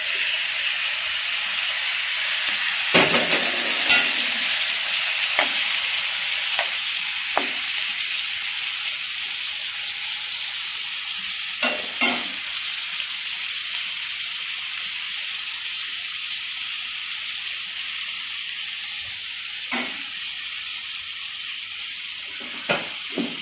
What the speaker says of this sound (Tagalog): Lagay na natin ang kamatis.